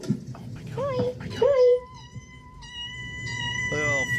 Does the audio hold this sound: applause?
no